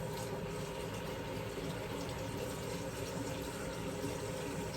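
A couple cups of water poured into a slow cooker for a home-cooked meal, a steady continuous splashing wash of liquid that carries on unbroken throughout at a moderate level.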